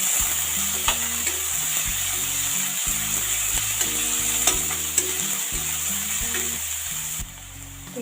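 Finely chopped onion sizzles steadily in a pan for a raw papaya sabzi, a continuous bright frying hiss with occasional stirring clicks, set over soft background music.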